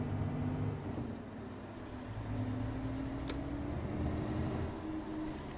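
A city bus in the OMSI 2 driving simulator pulls up to a red traffic light, a steady low engine rumble with a sharp hiss of air brakes midway, no voices.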